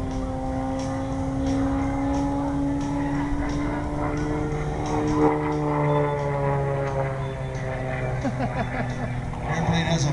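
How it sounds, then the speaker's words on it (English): An aerobatic propeller airplane drones overhead flying a loop at an air show, its engine pitch rising and falling as it maneuvers, with a steady background hum. "Now, Charlie's flying another looping maneuver for you this time"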